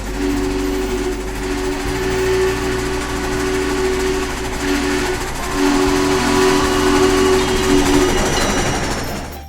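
A Frisco 1522 steam locomotive model train runs with a steady mechanical hum and rumble, and a whistle tone sustains through most of the stretch without any talking.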